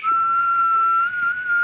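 One person whistles a single steady, slightly wavering held note close to the listener, heard alone for under two seconds.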